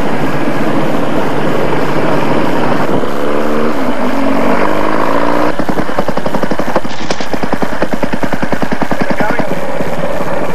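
Vintage motorcycles ride off from a New South Wales club rally, their engines a loud, continuous rumbling drone close by. The note shifts as the bikes pull away, with voices under it.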